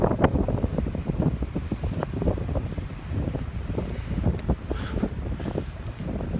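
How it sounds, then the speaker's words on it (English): Heavy wind buffeting a microphone, a continuous low rumbling roar with gusty thumps throughout, loud and close, with no voices. "Sorry about the wind, there's nothing I can really do about it."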